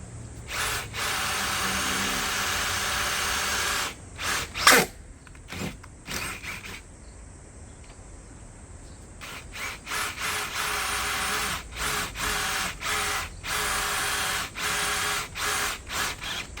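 A power drill bores screw holes in a car's rear seat partition panel. It comes as repeated loud, short bursts with brief pauses between them, close by and with no talk.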